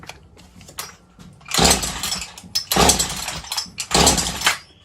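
Husqvarna 120 chainsaw with a carburetor fuel leak, pulled at full throttle without choke and failing to start: three loud rasping pull-cord rips in a row, the engine never catching.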